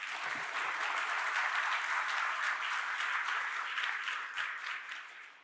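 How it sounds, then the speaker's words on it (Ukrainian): Hall audience applauding at a Ukrainian mental health event, a dense, even wash of many hands clapping, moderately distant and steady, fading slightly at the close. "прошу зал підтримати вас оплесками"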